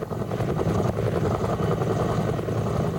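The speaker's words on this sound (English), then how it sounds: "The Forest Ministry leases the Bell 205 choppers from a company in the Fraser Valley" A Bell 205 helicopter leased by a forest ministry for logging work churns nearby, a loud, continuous rotor and engine drone that stays steady throughout with no voices.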